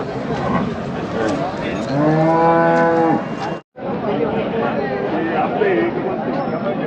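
A bull's deep, drawn-out moo rises over a steady crowd babble and nearby chatter at a cattle market in Chakan, close and loud.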